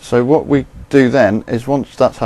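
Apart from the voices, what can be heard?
No everyday noises stand out.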